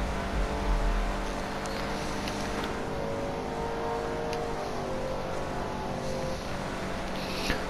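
The Nightshark armored SUV in GTA Online rumbles along at moderate level, a low engine growl with faint rolling and scraping textures, and a brief deeper surge near the start as it drives and slows.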